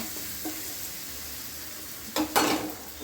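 Onion and coconut fry in a pan for chicken gravy, a soft steady sizzle running throughout, broken near the end by two louder scraping bursts of stirring.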